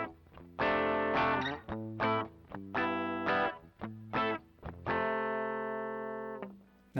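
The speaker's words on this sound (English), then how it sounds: "I'm going to start on the British pedal with the bridge pickup on my SG here." Electric guitar from a Gibson SG bridge pickup through a Joyo British distortion pedal, playing loud, close, crunchy chords in choppy bursts with a long sustained chord ringing out at the end.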